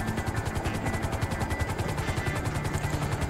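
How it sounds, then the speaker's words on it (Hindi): Golden helicopter in the video game GTA 5, its rotor chopping in a fast, steady pulse under a loud, constant engine whine, close and continuous with no talking. "और गाइस ये पूरा गोल्डन हेलीकॉप्टर भी"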